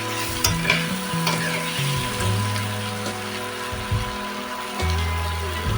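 Jackfruit curry is stirred and sautéed in a pan. A constant close sizzle runs beneath repeated scraping strokes of a spoon against the pan, with no voices.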